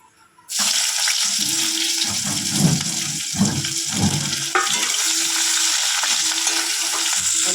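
Chopped onion and slit green chilies drop into hot oil with a black cumin tempering, bursting into a loud close sizzle that continues steadily, with stirring scrapes underneath.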